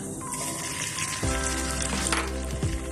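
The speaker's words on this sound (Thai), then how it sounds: "เราไปเริ่มผัดกันเลยนะคะแล้วก็จะเจียวกระเทียมนะคะให้หอมค่ะ" Garlic frying in a pan with a steady, bright sizzle that swells slightly partway through, continuous and close with no voices.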